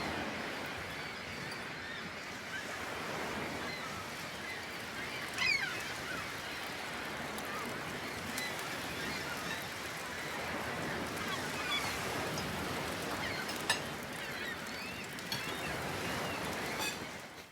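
Ocean waves wash in a steady, continuous surf roar, moderately loud and unbroken, with a few brief faint bird-like calls standing out over the water noise.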